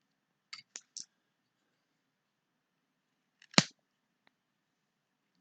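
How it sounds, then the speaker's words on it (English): A CRKT Raikiri folding knife slices through zip ties, giving a few crisp, quick snaps, then one sharper, louder snap a few seconds later against a quiet background. "Let's see how it is on zip ties."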